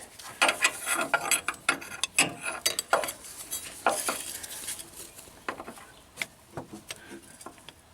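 A wrench works loose a tensioner bolt on the belts of an army truck engine, giving a close series of quick metallic ratcheting clicks and clanks in irregular bursts, with no talking.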